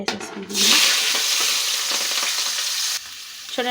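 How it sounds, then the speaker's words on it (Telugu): Sliced onions, curry leaves and green chillies hit hot oil in a pan, a loud burst of sizzling that flares up and then holds as a steady crackling fry, close by, with brief voice and utensil sounds at the edges. "ఇప్పుడు ఈ నూనెలో కట్ చేసిన ఉల్లిపాయలు, కరివేపాకు, పచ్చిమిరపకాయలు వేసేసుకుందామండి"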